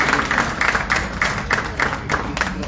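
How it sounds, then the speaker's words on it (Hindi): Audience applause at a live Bhojpuri film poster launch event, steady rhythmic clapping from a crowd that continues without a break. "तो मैं चाहूंगा कि उनके लिए एक जोरदार ताली होनी चाहिए।"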